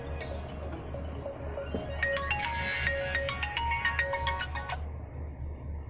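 A mobile phone ringtone plays a bright, repeating electronic melody for about three seconds over a steady low hum, then stops abruptly.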